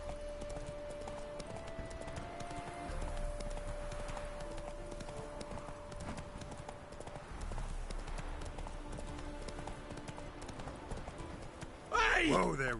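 Horse hooves clip-clop in a steady rhythm while riding through The Witcher 3 game world. The hoofbeats continue under ambient game sound, and a brief shrill horse whinny comes near the end.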